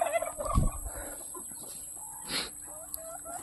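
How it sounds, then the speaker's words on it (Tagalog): A turkey gobbles in a short, rough burst near the start, followed by a fainter call a moment later over quiet farmyard background. "Bumalik na naman yung pabo dito."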